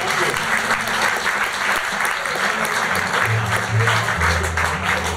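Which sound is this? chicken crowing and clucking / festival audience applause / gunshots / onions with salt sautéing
festival audience applause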